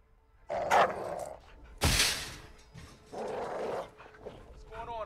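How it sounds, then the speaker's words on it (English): A caged dog barks in Call of Duty: Modern Warfare 2 (2022). Several deep, loud barks and growls come in separate bursts, mixed with game effects, and players talk over them. "Do you see the caged dog?"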